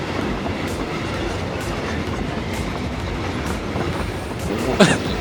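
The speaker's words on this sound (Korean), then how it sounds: "지옥행 열차 출발합니다." A train in a video game rolls along with steady rumbling and faint rhythmic clatter, ending in a brief sharp wheel squeal near the end.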